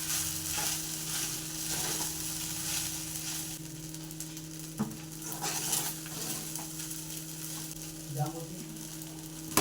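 Cumin seeds and curry leaves sizzle in a frying pan for jeera rice, a soft, steady crackling hiss heard close, with a few stirring clicks and light pan knocks.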